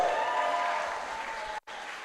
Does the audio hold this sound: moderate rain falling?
no